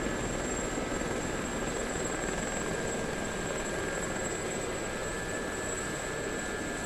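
A helicopter hovers in Microsoft Flight Simulator, its rotor and engine making a steady, dense whooshing drone with a faint high whine. The sound stays even and unbroken throughout, and no one speaks.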